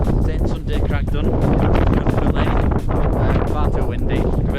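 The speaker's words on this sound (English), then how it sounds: "Far too windy, you can barely even breathe" Strong wind on the winter summit of St Sunday Crag in the Lake District buffets the microphone in a continuous loud roar with gusting rumbles, and a voice can be heard faintly under it.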